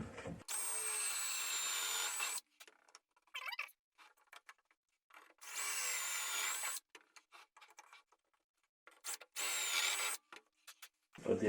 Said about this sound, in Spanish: y volvemos a taladrar.